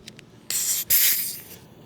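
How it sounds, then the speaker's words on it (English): An air compressor spray nozzle in a woodworking shop blows two short bursts of air, a loud close hiss cut by a brief gap, after a couple of faint ticks and before fading off. "if you have an air compressor, get yourself set up with one of these spray nozzles"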